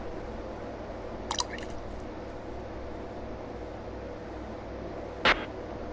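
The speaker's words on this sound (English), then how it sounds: "Drip crow's blood." Crow's blood dripping onto a magic circle in a game: a few small wet drips, then a louder squishy splat near the end, over a low steady ambient hum with no speech.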